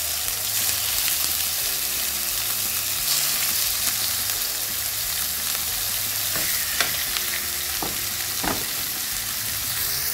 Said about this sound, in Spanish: Y continuamos en una cacerola con aceite, freímos las chuletas.